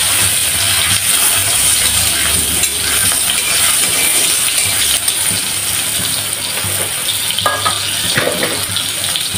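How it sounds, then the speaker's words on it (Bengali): Seeds lightly frying in a pan while a saag dish with fish head is cooked, a steady loud sizzle with a few faint clinks throughout. "হালকা করে বীজটা ভেজে নিচ্ছি।"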